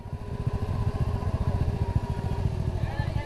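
Motorcycle engine running near a motorcycle-taxi stand on the road up to Puncak Botorono in Temanggung, a steady close rumble with pulsing idle throughout, with some voices underneath.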